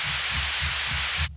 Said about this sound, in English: I just have the white noise so you guys can hear what's going on.